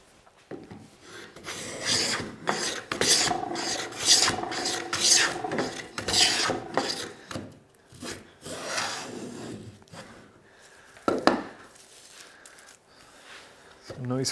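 Repeated broadband rasping strokes of a wooden hand plane shaving hard maple, close and fairly loud in a steady rhythm, with a voice talking briefly between passes.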